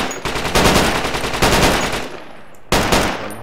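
Loud automatic gunfire in Project Reality v1.39 on the Kokan Afghan insurgency map: several long, rapid bursts fired close by, each trailing off with echo before the next begins.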